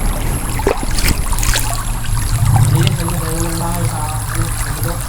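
River water rushes and trickles steadily close by, a continuous watery wash with faint voices underneath.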